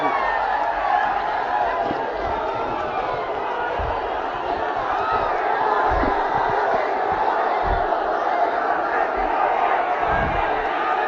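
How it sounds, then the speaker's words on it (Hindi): A large crowd at an outdoor political rally in Gaya, Bihar, roars with continuous cheering, shouting and clapping, a dense, loud wall of sound that holds steady throughout. "कृपया जोर की ताली से स्वागत गया की धरती पर जयकार करके करें।"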